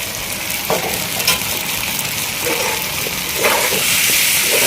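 Ground coriander, cumin and Kashmiri chili frying in a kadai for dhaba-style chicken, a loud continuous sizzle and hiss with occasional stirring scrapes, close up and without speech.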